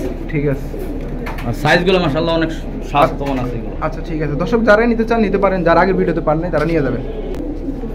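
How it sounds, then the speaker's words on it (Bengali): Wood pigeons coo in throaty, rolling calls that sit mostly beneath someone talking nearby, the birds' voices surfacing in short gaps between his words. "এটা বন কবুতর"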